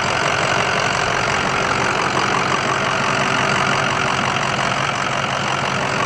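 A 2007 Ford F350 Lariat 4x4 with a 6.0 liter Powerstroke diesel, cold air intake and aftermarket exhaust idles loud and close, a steady clattering rumble with no break.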